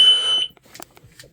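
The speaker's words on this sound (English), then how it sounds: "I know, oil light beep thing." A vehicle's oil warning light sounds a single short, bright electronic beep, close and clear, followed by faint clicks and quiet handling noises.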